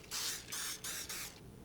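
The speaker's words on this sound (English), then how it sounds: "I'm going to now spray the entire pan." Cooking spray hisses onto a baking pan for blueberry buckle in four close, steady bursts separated by short pauses, alone with no talk.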